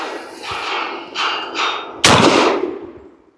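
Twelve-gauge double-aught buckshot fired through a Chiappa M6 survival gun with a shotgun adapter gives one loud, sharp outdoor blast that rings out and fades, after a few softer thumps and rustles.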